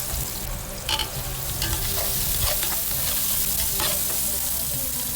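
Ginger and onion sauté in oil in a pan, an even crackling sizzle with brief bursts of spatula stirring over it.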